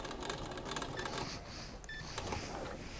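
A Pfaff Powerquilter sewing machine runs a short burst of rapid, close mechanical stitching for a securing stitch. Fast clicking and whirring fill the first part, followed by quieter clicks and a brief faint beep.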